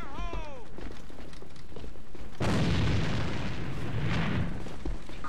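A fuel tank is shot and explodes in the game A.V.A., a sudden heavy boom that rolls into a broad, rumbling blast lasting a few seconds amid game noise.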